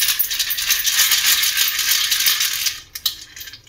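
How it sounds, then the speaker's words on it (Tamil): Small anklet-style bells jingle and rattle inside an antique brass vessel as it is moved, a bright continuous metallic shimmer, close and loud, that thins out near the end into a few scattered clinks. "ஒரு சவுண்டு சலங்க சவுண்டு வேறு கேட்குது."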